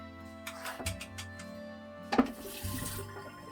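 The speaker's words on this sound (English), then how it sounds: "just let me go to the sink real quick" Kitchen sink tap running briefly while spaghetti and meatballs are being made, a soft close rush of water starting and stopping in short spurts with a clunk partway through and no talking.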